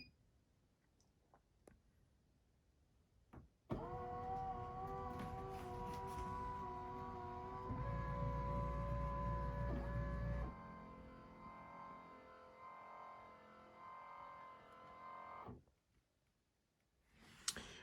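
A Wilson Baiardo tennis stringing machine runs its startup self-checks: a sudden steady mechanical hum with layered motor tones begins, deepens into a louder low drone midway, then shifts and fades out after about twelve seconds, with a few clicks before and after.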